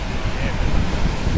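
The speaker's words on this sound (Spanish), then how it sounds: "Mira qué río, chaval." Loud, dense roar of rough water at the Paseo Nuevo seafront in San Sebastián in November, a steady broadband rush with wind buffeting close to the microphone and no pauses.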